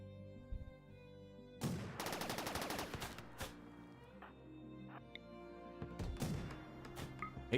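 Rapid automatic gunfire bursts in the colony survival game RimWorld during a fight with a Lancer, a dense rattling volley followed by scattered shots and impacts, fairly loud over background game music.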